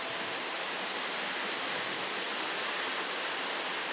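Freezing waterfall in Japan, a loud, steady roar of falling water with broadband rushing noise throughout and no voices.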